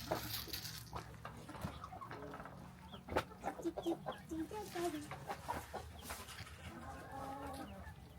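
Chickens clucking close by on a farm, a busy overlapping run of clucks and short calls, fairly quiet against a low background hum.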